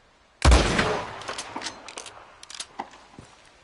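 A loud gunshot opens a volley of scattered shots and ricochet-like cracks in a Red Dead Redemption firefight, the reports tapering into quieter, irregular pops.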